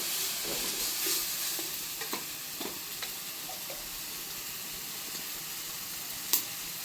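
A spice paste with turmeric sautéing in a pan: a low, even sizzle with a run of light scrapes and taps from stirring, ending with one sharper clack, faint and with no voices.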